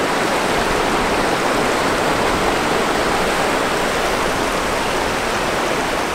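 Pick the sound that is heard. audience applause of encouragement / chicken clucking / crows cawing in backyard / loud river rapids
loud river rapids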